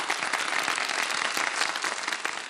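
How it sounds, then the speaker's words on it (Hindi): An audience claps together in a steady, dense burst of applause that stays loud and even throughout, with no voices standing out. "चलो भाई तालियां बजा दो इस बात पे तो।"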